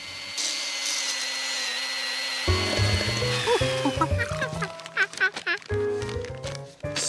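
A cartoon chainsaw starts with a high whine, then sputters and revs in choppy mechanical bursts with buzzing, stuttering pulses that rise and fall, mixed with other cartoon sound effects, and a voice speaks over part of it.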